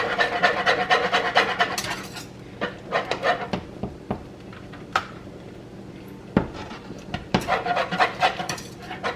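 Uji porridge being stirred with sugar in a pot, a close rhythmic scraping and rubbing of the spoon against the pot in bursts with short pauses.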